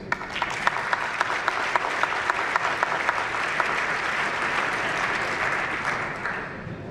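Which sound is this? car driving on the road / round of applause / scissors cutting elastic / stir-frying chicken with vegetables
round of applause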